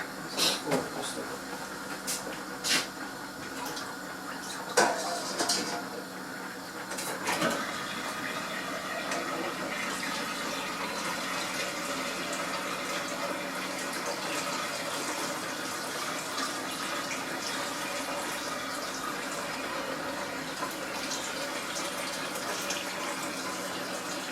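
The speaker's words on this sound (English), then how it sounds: "So just drain some of this liquid." Liquid pours and splashes steadily as it is drained from a cooking pot, a continuous watery rush with a few clunks near the start, at close range, with no talk.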